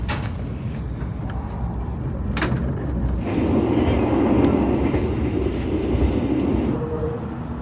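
Indonesian passenger train KA Bengawan pulling out of Bumiayu station in Brebes at night, heard from on board: steady low rumble of the carriages with rail clatter and a few sharp knocks, growing slightly louder as it gathers pace.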